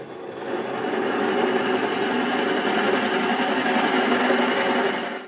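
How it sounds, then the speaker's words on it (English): A steady, continuous whirring of a drill boring through wood on a lathe to make a wood ring, holding an even pitch and loudness throughout with no talking. "So now I'm going to drill all the way through."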